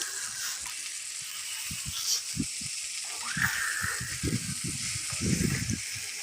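Two hilsa fish fry in hot mustard oil in a pan, giving a steady high sizzle that runs throughout, broken by a series of close clunks and scrapes as the fish are moved about.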